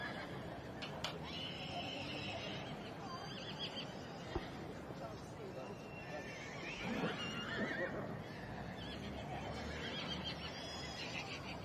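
Junior cob brood mares in an outdoor show ring, with horses whinnying now and then amid a busy crowd murmur, a loudspeaker commentator talking over the scene, and a faint clop of hooves.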